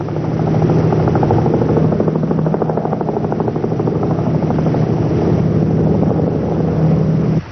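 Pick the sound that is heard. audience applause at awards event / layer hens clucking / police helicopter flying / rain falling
police helicopter flying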